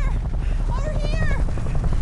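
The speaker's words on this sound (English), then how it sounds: "don't wave at the helicopter" Helicopter in Metal Gear Solid V, a dense rotor thrum filling the short clip alongside game sounds, with voices briefly audible over it.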